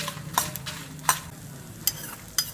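Urad dal and coriander seeds roast in a pan for a ridge gourd chutney, a low sizzle broken by four sharp scrapes of a spatula stirring, close and alone.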